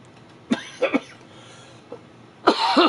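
A person coughs a few times in short bursts, then lets out a harsher, longer cough, close by.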